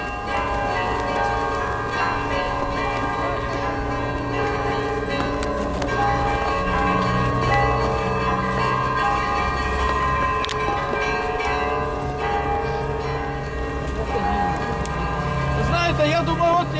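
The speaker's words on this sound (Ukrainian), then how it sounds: "Я слухаю, як дзвонять дзвони. Це обідні дзвони." Church bells ringing at midday during a protest gathering in Kamianske, a continuous layered clang of tolling bells with humming undertones, heard at a distance beneath steady crowd and street noise.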